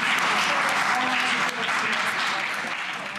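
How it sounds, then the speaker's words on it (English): Warm applause from pupils at a secondary school assembly, a steady, moderately loud patter of many hands clapping that continues throughout. "Please give him a round of applause"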